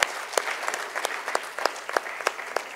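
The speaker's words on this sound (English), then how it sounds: "I request all of you to give them a huge round of applause." Sparse, scattered applause from an audience at the inauguration of a health summit in India, with separate claps sounding in an uneven rhythm under a quiet room hum.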